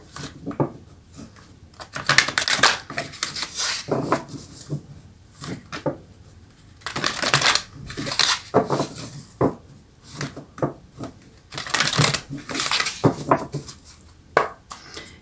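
A deck of oracle cards being shuffled by hand, producing repeated bursts of riffling, slapping card sounds in an irregular rhythm, close and fairly loud with short pauses between.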